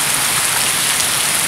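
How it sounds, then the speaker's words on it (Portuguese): Heavy rain pours in a dense, steady hiss that fills the whole short stretch, loud and close with no pauses, in an arid region where a storm is forming. "Está se formando um ciclone essa chuva."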